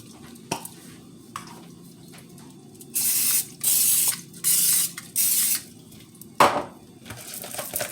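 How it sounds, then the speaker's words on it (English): Pam cooking spray hisses onto a pan in four sharp bursts of about half a second each, with light clinks and small kitchen knocks around them in a quiet room. "And I'm going to spray my pan with Pam."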